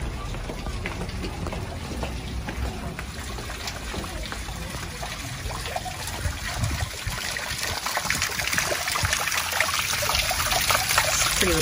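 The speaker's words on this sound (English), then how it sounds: "Here's some water running." Water running in a desert garden water feature with ferns and columbine nearby: a continuous trickling, splashing flow that grows slightly louder, with voices heard alongside.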